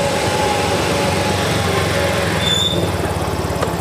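A Yamaha Soul GT motorcycle engine runs steadily at idle after its ignition fault is repaired, a continuous close buzzing drone with no talking.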